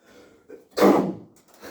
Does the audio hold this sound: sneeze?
yes